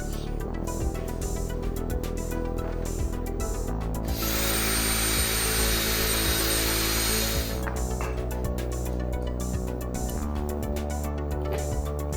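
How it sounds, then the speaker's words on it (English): A power driver sinks self-tapping screws into a snowcat's metal cross member, giving rapid close grinding and whirring bursts with a sustained loud whine in the middle and no speech. "I'll just use some self-tappers into that cross member"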